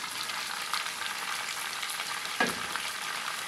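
Spices sizzle and fry in a pan for beef pulao, a steady close crackle with a brief stir or clink partway through, no voices.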